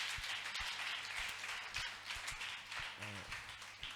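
A church congregation at a Rwandan youth choir service claps together in scattered, uneven bursts of hand claps, moderately close, with brief voices and crowd murmur underneath.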